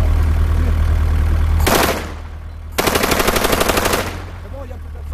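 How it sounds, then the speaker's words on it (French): An airsoft gun fires a sustained rapid burst lasting over a second, loud and close, after a steady low rumble that cuts off. The shots ring out alone with no talk. "Tire une rafale dessus."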